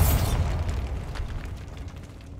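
A Bombarda spell explodes in Hogwarts Legacy, a heavy, close boom at the start that rolls into a decaying rumble with scattered debris rattling as it fades.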